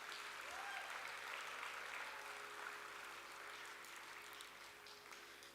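Audience applause at a Bharatanatyam arangetram after a dance: steady, faint applause from a distant crowd, sustained and gently fading over several seconds.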